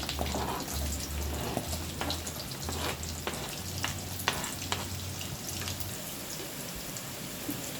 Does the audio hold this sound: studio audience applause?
no